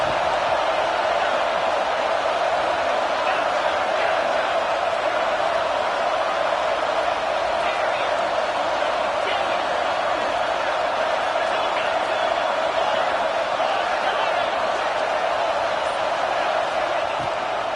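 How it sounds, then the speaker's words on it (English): A stadium crowd at a Florida Gators football game roars continuously on third down, a loud, steady wall of cheering noise with scattered whoops throughout. "This crowd unhinged, trying to make sure the Gators don't back down on 3rd down."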